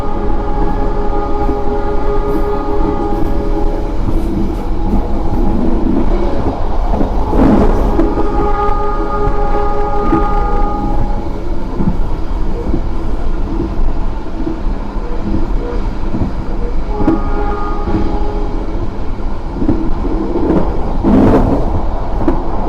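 KA Sangkuriang passenger train pulling out of Caruban station in East Java, a loud steady rumble of wheels and carriages with a few brief horn-like tones rising over it, no voices.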